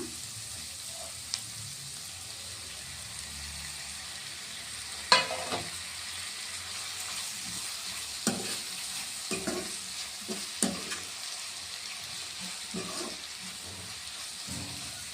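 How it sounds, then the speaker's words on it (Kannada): Onions fry for paneer bhurji in a pan, giving a soft, steady sizzle with a few scattered clinks and scrapes of stirring, fairly faint and close. "ಈರುಳ್ಳಿ ಎಲ್ಲ ಚೆನ್ನಾಗಿ ಫ್ರೈ ಆಗಿದೆ"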